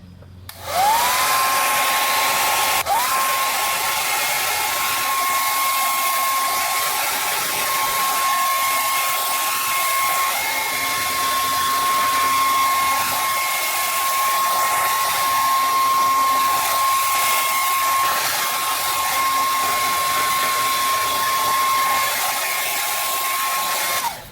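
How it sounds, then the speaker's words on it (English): A hair dryer blows steadily with a loud, continuous whoosh and a high motor whine, running without pause for the whole stretch. "I don't have a heat gun, so I'm just gonna use a hair dryer."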